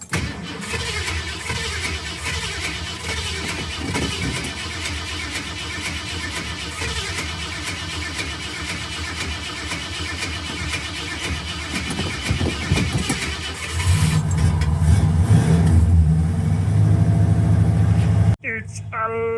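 A Custom 500 car engine, fitted with a custom fuel system, cranks and catches, then settles into a rough idle that swells into a louder, steadier running note near the end, with people talking over it.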